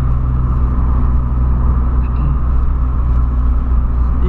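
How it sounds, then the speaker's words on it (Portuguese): A 2008 VW Polo fitted with a Jetta dual sport exhaust runs loud and close, giving a steady, heavy low rumble with no clear rev peaks or gaps. "Coloquei escapamento esportivo duplo, né? Do Jetta. O barulho estrala,"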